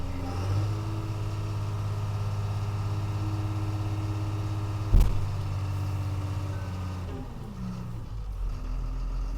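Tractor engine working a laser-graded shed pad in first gear at a very slow crawl, a steady low idle-like drone with a brief sharp knock midway and the rumble easing near the end.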